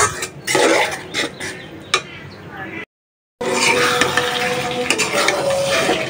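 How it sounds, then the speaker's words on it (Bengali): Beef is sautéed with red chilli spices in a pan, with loud scraping and stirring strokes over a steady sizzle. The sound cuts out briefly, then returns with continued frying and clinks. "মাংস দিয়ে দিলাম, আর মাংসটা মশলার সাথে ভালোভাবে অনেকক্ষণ কষায় নিব।"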